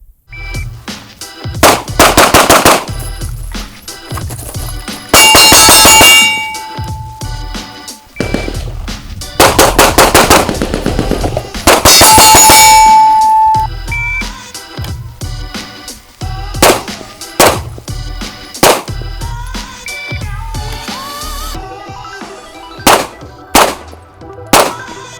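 A 2011-style pistol fired at a range at steel targets, loud sharp gunshots in quick strings with bursts of rapid shots, ringing metallic hits and pauses between volleys, no voices.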